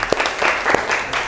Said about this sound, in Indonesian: kita beri tepuk tangan semua